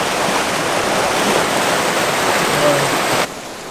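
Steady rushing water flows continuously through a creek during seasonal flood rains, a broadband wash, fairly close, ending abruptly near the end.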